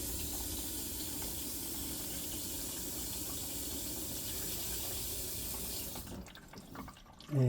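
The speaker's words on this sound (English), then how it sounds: "And that is the faucet." A No Boundaries multi-function sink faucet pours a steady stream into the basin, a constant rushing splash that stops abruptly near the end, followed by a brief knock and a short low sound.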